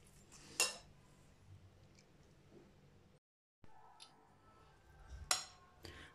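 Celery salad being mixed in a bowl, with a few sharp clinks and scrapes of a utensil against the bowl and quieter rustling in between, plus a brief silent gap midway.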